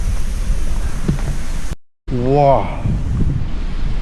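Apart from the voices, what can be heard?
strong wind at the waterfall source in the mountains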